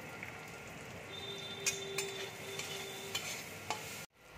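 Ground turmeric and chili powder fry in a pan, giving a steady soft sizzle with light stirring scrapes and clicks throughout, then a sudden drop near the end.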